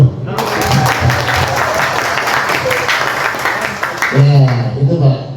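An audience at the KOPI Grafika national working meeting at a Jakarta hotel claps for the announced fourth congress, a sustained burst of applause with a voice speaking over it near the end.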